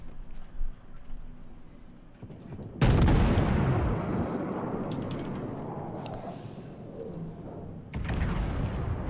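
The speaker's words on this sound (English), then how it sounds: "I just launched a salvo at him" A battleship main-gun salvo in the naval game World of Warships, played aboard the Kaiser: a sudden loud broadband boom that decays over several seconds, followed by a second, weaker blast near the end.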